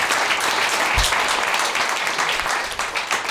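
A comedy club audience at a stand-up special applauds steadily and loudly, a dense wash of clapping throughout.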